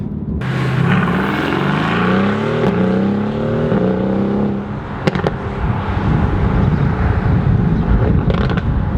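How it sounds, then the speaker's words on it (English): Mercedes-AMG GT R V8 engine and exhaust revving loudly and close by, a deep, growling roar that rises and falls in pitch for several seconds, broken by sharp crackles and pops, with no voices over it. "It's a deep, growly, angry, racy AMG, you know, engine noise and exhaust noise"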